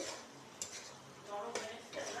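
A spoon scrapes and stirs through spices frying in a pan with a little turmeric, soft scraping strokes and light clinks over a faint sizzle, quiet and close.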